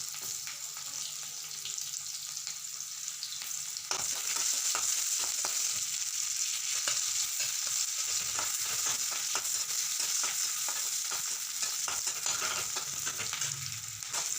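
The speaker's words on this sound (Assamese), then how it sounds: "এতিয়া ইয়াত পিঁয়াজ আৰু জলকীয়া দি ভালদৰে ভাজি ল'ম।" Onion and chili sizzle steadily in hot oil with whole cumin and five-spice for an Assamese fish curry, a close, crackling fry that grows louder after a few seconds, with occasional stirring clatter.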